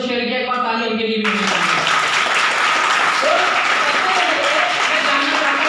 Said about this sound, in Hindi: एक बार ताली उनके लिए भी।